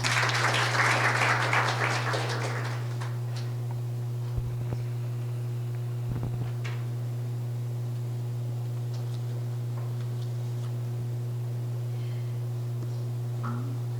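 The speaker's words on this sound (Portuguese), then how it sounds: "Por favor, uma salva de palmas." Applause from an audience at a Brazilian forensic nursing congress, a burst of clapping that fades out after a couple of seconds and leaves a quiet hall with a steady electrical hum and occasional small knocks.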